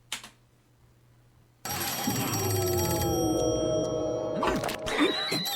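A telephone rings in an animated show, a steady electronic ring that starts abruptly after a quiet moment and carries on loud and close with layered tones, with no talking.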